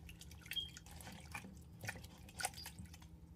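Warm water trickles and drips from a tap into a sink, faint and irregular with a few louder splashes.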